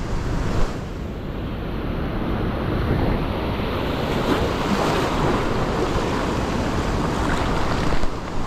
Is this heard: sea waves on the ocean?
yes